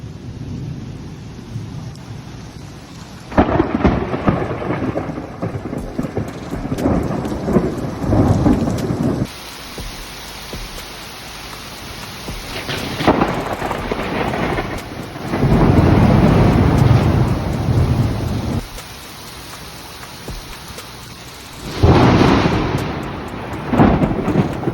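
Powerful thunderstorm with heavy rain pouring steadily, broken by several loud, close thunder cracks and rolling rumbles from lightning strikes, the bursts swelling and fading over the downpour with no voices.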